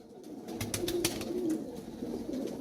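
A red-eyed Ababeel breed pigeon coos softly nearby in low rolling notes, with a few sharp clicks or taps over a faint background.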